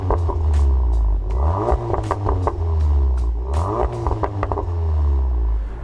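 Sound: Volkswagen Golf 7.5 R engine and exhaust

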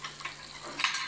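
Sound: potatoes stewing in an old frying pan

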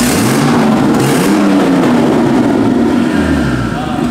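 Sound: BMW 533 hp car engine revving

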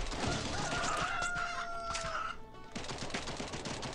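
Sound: chickens clucking in the video game Swamp Attack 2

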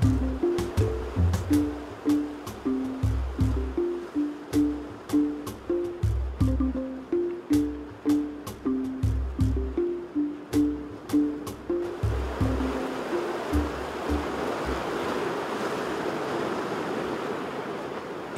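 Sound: ocean waves surging in with the incoming tide

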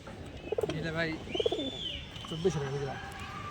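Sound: pigeons cooing

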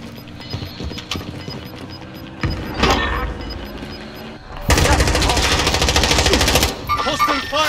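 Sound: hostile gunfire in the video game Call of Duty Warzone

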